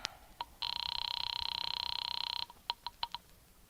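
An old-style telephone bell rings in one long sustained burst in a vintage old-time radio horror drama, followed by several short clicks and taps, with no talking.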